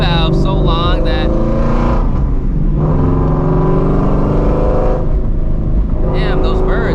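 A New Edge Mustang GT with a 700hp build goes under way on a tree-lined road, its engine a loud, steady rumble that swells as it accelerates, with someone talking over it and birds chirping briefly.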